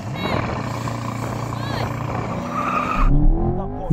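A Porsche 911, an Audi R8 and a Chevy Corvette launch at a race start, with engine tones climbing together and a surge of revving near the end, close and loud.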